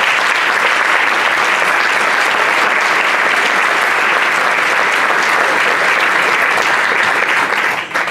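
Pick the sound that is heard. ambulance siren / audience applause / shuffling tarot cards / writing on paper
audience applause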